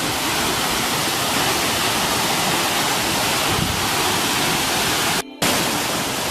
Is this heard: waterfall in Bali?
yes